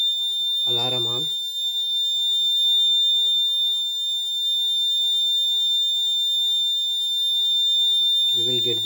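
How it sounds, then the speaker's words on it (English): A vehicle impact monitoring system's alarm buzzer sounds with the engine off, a steady high-pitched tone running throughout while a voice speaks briefly at the start and the end. "engine off, alarm on"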